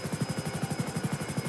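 The Airwolf supercopter in GTA 5 flies with a close, steady, rapid rotor thump over a constant engine whine.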